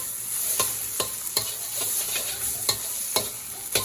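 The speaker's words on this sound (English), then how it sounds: "just add the tomatoes. Give it a little mix." Sri Lankan devilled shrimp with tomatoes sizzles in a pan while a utensil scrapes and taps at a steady stirring rhythm, close and moderately loud, with no speech.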